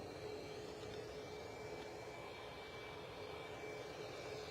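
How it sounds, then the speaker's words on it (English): A Boeing 737 Max 8 airliner on its takeoff at Bristol Airport, heard as a faint, steady, distant engine roar with no voices. "a nice little double shot there of two Max 8s. That one going for its takeoff"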